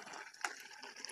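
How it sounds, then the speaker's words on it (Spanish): A little water poured into a herb and tomato sauce made with rosemary, oregano and salt: a faint, brief splashing trickle with one sharper splash near the middle, heard alone. "Ahora le pongo un poquito de agua"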